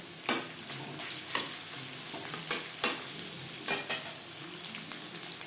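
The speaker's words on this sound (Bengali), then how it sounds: "পেঁয়াজ আমি হালকা করে ভেজে নেব" Onions fry in a thick aluminium kadai before biryani is made. A steady sizzle runs throughout, with several sharp scrapes and clatters of a spatula against the metal. Nobody speaks.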